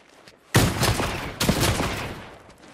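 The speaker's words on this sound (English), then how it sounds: "this is by far the scariest shotgun I think I've seen in this game" Shotgun blasts from a range shotgun in a shooter video game: two loud, close booming shots about a second apart, each trailing off in a long rumbling decay, with quiet surroundings before the first.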